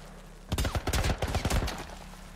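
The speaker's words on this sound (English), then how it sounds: "Wait, they're getting shot too?" Rapid burst of video game gunfire from The Last of Us, a cluster of sharp, loud shots fired in quick succession for about a second before trailing off.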